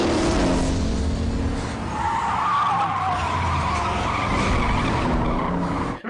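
Cars in a street drag race from a movie scene give a loud, sustained tire skid, with squealing rubber and engine roar filling the clip and no talking.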